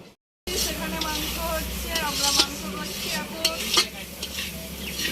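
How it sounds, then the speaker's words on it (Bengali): Spices frying in a pot for biryani sizzle loudly and steadily, broken by clattering stirring and utensil clinks, with a brief silence at the start and faint voices in the background. "এই এখন মশলা কষছে"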